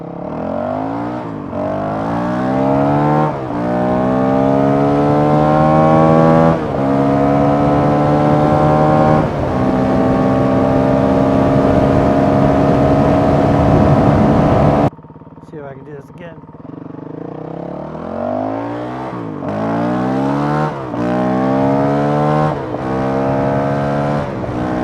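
A Honda CRF 450 RL motorcycle fitted with an aftermarket ECU rides on the road, loud and close, its engine revving up repeatedly through the gears, dropping briefly to a lower idle-like drone midway before pulling hard again.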